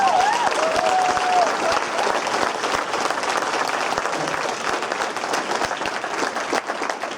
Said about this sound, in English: give a huge round of applause for our man, John Hollin